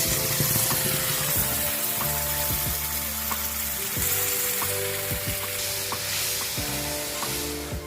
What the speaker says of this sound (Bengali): মশলাটা আমি কষতে থাকবো যতক্ষণ তেল না ছাড়ে